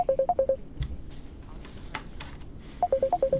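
Telephone keypad dialing in Starfield, two quick bursts of rapid beeping tones at the start and end, separated by quieter clicks and faint background sounds.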